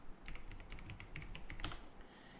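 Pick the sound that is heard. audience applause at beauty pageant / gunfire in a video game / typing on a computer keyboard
typing on a computer keyboard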